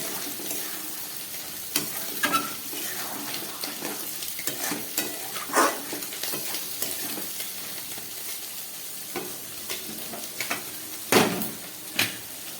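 Spiced chicken sautés in oil in a pan as the water cooks off, with continuous sizzling and frequent scraping stir strokes, plus a few sharp knocks against the pan; no one speaks.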